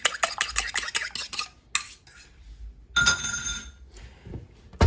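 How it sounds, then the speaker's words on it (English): A whisk or fork scrapes and clinks against a bowl while an egg is beaten for a gluten-free pear frangipane tart, with a rapid rattling run, a pause, then a further burst of stirring, close and clear. "So I just want to mix the egg up a little bit. All right, kind of break the yolk."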